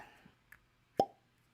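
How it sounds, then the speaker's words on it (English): A single sharp, close pop as a cork is pulled from a Scotch whisky bottle, brief and crisp, with a quiet room around it. "Little cork pop."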